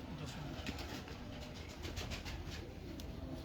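Pigeons coo faintly amid a dense, hissing background, with soft repeated calls scattered through and no talk.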